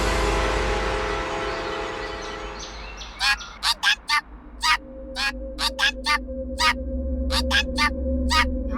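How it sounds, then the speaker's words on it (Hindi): A parrot screeching loudly indoors, a rapid series of harsh, piercing squawks in uneven bursts that follow a stretch of voices and background noise. "तोता इतना चिल्ला क्यों रहा है?"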